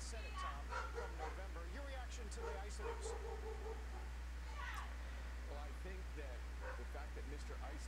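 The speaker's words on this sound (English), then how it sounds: "Ignore the dog that you guys may hear in the background." Dog barking and yipping in the background of a live stream, a string of short high yelps and whimpers, faint and intermittent over a steady low hum, with a voice present.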